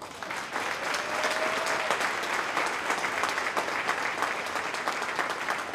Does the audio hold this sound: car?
no